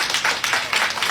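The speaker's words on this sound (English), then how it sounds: "Everybody give him a big round of applause." Loud, dense audience applause fills the short stretch, many hands clapping together in a continuous wash for a fitness-program success.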